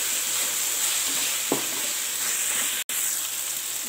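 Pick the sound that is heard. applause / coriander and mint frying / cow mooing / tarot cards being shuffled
coriander and mint frying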